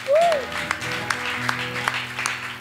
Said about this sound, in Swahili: Clap our hands together for Christ, for Jesus